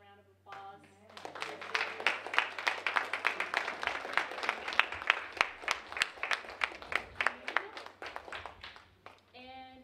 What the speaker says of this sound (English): so we can give you all a round of applause